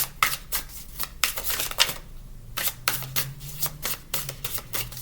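A deck of large tarot cards is shuffled by hand at close range, with a rapid series of crisp riffling bursts broken by a short pause.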